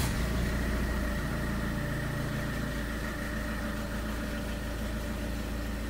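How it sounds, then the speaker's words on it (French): Peugeot 307 2.0 HDi diesel engine idling steadily after a start, a continuous low rumble with a faint rhythmic knock, close and constant throughout with no talking. "je laisse un peu le moteur tourner à vide le temps que l'huile fasse le tour du circuit"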